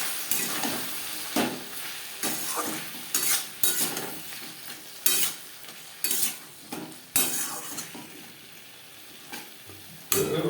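Potatoes tossed with salt, turmeric and spices in a pan, a spatula scraping and stirring in repeated bursts over a soft sizzle, with occasional metallic knocks against the pan; no talking.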